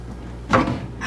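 A bottom drawer in an RV kitchen slides open with a single short, muffled rumble and knock, close by and fairly loud against a quiet room.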